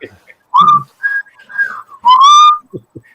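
A person whistles the tune Dixie in a few clear melodic phrases with pauses between them, close and fairly loud, with small mouth and breath noises in the gaps.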